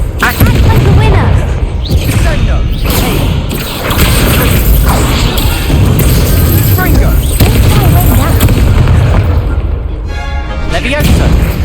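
Confringo spells fired in the Hogwarts Legacy video game burst as repeated heavy booms and crashing impacts amid a loud, busy duel, with people talking over the blasts.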